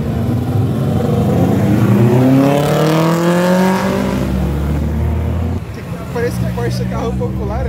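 Car engine revving and accelerating hard in a street drag race, a loud rising roar that climbs through the gears, then drops and surges again, with people talking over it.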